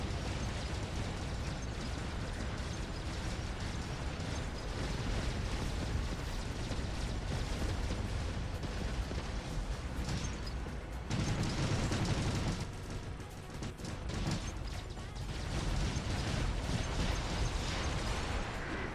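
Weapon fire from a War Robots game battle, heard as continuous loud explosive bursts and rapid mechanical gunfire with a brief dip partway through. No voices.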